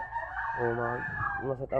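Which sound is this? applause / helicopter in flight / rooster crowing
rooster crowing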